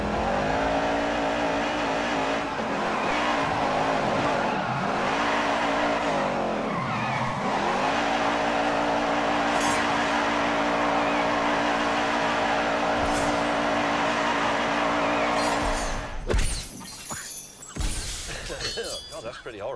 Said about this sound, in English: I'll just make wheel spin. Wheel spin, that just makes a huge amount of noise.